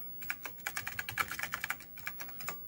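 Fingers type quickly on a computer keyboard, a close, quiet run of rapid key clicks in short irregular bursts with no talking.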